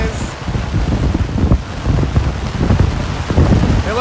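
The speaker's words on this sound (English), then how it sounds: "We are raining at a 45-degree angle right now," Heavy wind-driven rain lashing an outdoor championship game between Boston and Charlotte, a loud, constant roaring wash of noise with voices under it throughout.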